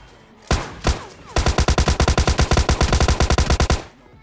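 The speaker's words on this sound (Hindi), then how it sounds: "बड़े अजीब अजीब जगह से गोलियां पड़ रही है" Rapid automatic gunfire in PUBG Lite, a couple of separate loud shots followed by a long, steady burst of evenly spaced rounds, close and sharp, with no talking.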